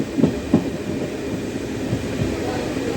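A DEMU train pulls out of Balanagar station with a low rumble and a few rhythmic wheel thumps at the start, then settles into a steady rolling drone.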